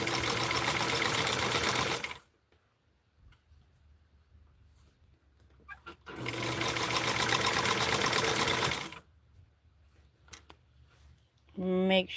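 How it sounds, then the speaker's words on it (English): A sewing machine stitches fabric for a McCall's 7841 Skipper doll outfit in two steady, whirring bursts of a few seconds each, separated by quiet pauses, with a brief voice at the very end. "Basically sew it to placement."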